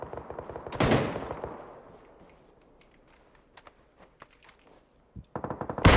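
Gunfire in the video game PUBG: a loud burst with a long echoing tail, then scattered faint distant shots and clicks, and a final close burst of rapid shots; nobody speaks.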